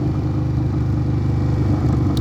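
A 2021 Indian Scout motorcycle with a Hacker Mayhem exhaust runs steadily, giving a deep, continuous engine rumble at an even level, close by and with no voices.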